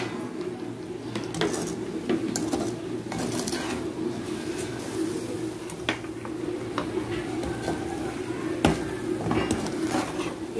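A coconut and sugar mixture for coconut burfi is stirred in a pan, with repeated scraping and light clinks of a utensil against the metal over a low background hum and faint bird calls, no voices.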